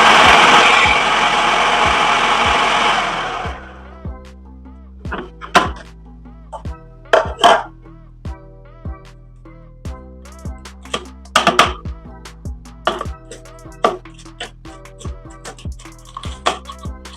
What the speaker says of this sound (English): I'm now trying the food processor part